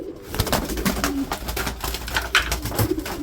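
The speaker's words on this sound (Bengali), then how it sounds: "রেসার কবুতর" Cream bar racer pigeons coo repeatedly at close range, with soft throaty pulses rising and falling over a low hum of background noise.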